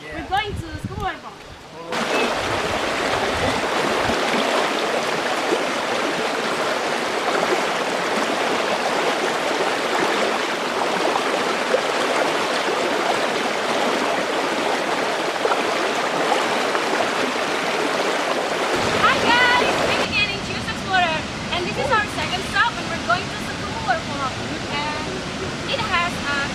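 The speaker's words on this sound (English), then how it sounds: "We're going to Sekumpul Waterfall." Sekumpul Waterfall near Singaraja, Bali, with its stream giving a loud, steady, close-up rushing roar that fills almost the whole stretch, broken only by quieter moments at the very start and near the end.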